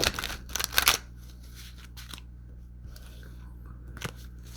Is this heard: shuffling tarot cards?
yes